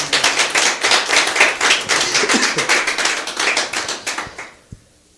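A church congregation claps together at a ministry gathering, a dense run of close hand claps that holds steady for about four seconds, then thins out and stops.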